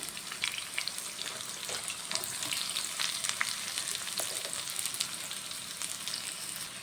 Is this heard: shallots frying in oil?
yes